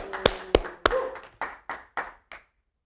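One person claps eight times in a slow, uneven rhythm, the first few claps sharp and loud, later ones softer, ending in silence.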